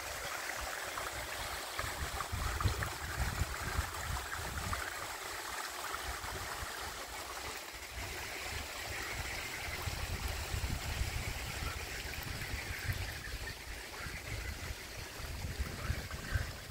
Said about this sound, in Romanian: sunt deasupra cascadei, de aici curge apa jos